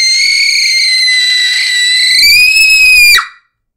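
A sustained high-pitched scream aimed at a wine glass to shatter it, holding a steady piercing tone for about three seconds, rising slightly near the end with some rumble underneath, then cutting off abruptly.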